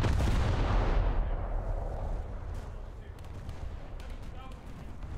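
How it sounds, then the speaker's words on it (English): USS Newport News naval guns fire in War Thunder, a loud booming salvo up front that rolls off into a long fading rumble with faint distant crackles, a voice talking over it. "I'll just keep on shooting the same spot to see what I get"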